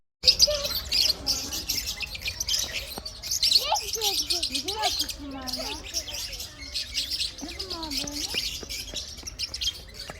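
Cockatiels chirp and whistle in quick, rising calls close by at a zoo, over a steady high-pitched chatter of more birds; people talk and laugh nearby.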